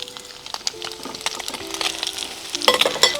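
Radishes sizzling in a pan with small mourala fish, a close, crackling fry with bursts of stirring and spitting oil, no talking.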